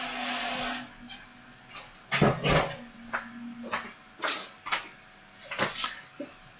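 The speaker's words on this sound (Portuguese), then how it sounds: "meu cachorro resolveu latir para a porta para abrir" A dog barks at the door indoors, a cluster of sharp close barks that begin after a moment of hum and then repeat irregularly every half second or so, with faint room noise between them.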